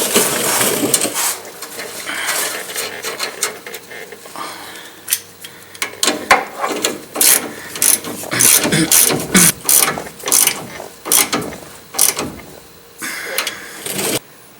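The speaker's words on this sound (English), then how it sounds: "using a 1/2-inch torque wrench, tighten the small nut to 65 foot-pounds and the larger one to 185 foot-pounds" A half-inch torque wrench tightens pitman arm nuts on a 1994–2001 Dodge Ram pickup, giving loud, close ratcheting clicks in uneven bursts with brief pauses between pulls.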